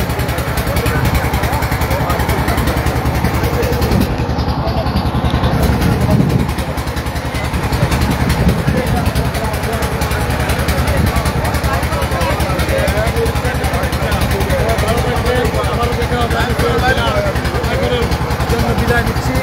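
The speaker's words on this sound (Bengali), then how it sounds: "আমাদের নৌকা আস্তে আস্তে এগিয়ে যাচ্ছে আমাদের গন্তব্যের দিকে।" Motor boat engine chugging steadily as the boat moves slowly along, a loud continuous drone throughout with people talking over it.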